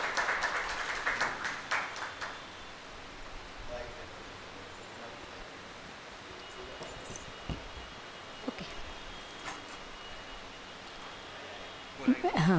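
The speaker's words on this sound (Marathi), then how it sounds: "टाळ्यांचा गजरात स्वागत करूया" A crowd applauds at a Marathi book launch ceremony, densest in the opening seconds, then thins into a steady wash of scattered clapping and room noise before a short burst at the end.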